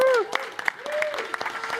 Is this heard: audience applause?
yes